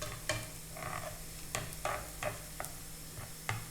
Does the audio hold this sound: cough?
no